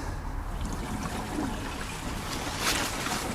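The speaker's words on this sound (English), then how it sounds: "that's now running the water pump, and I can hear it down there." The electric water pump on a 2016-2019 Hyundai Ioniq Electric 28kWh circulates coolant, giving a steady, faint watery trickle and hum with no one speaking.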